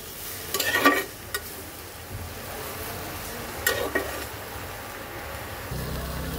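Bottle gourd leaves being sautéed with singhi fish in a pan, a low steady sizzle with a few louder scrapes and stirring clatters early on, no voices.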